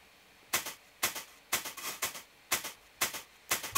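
A chopped-up drum loop, cut into pieces for an electronic track, plays alone as a steady pattern of sharp, bright hits, about two per second, with short crisp tails.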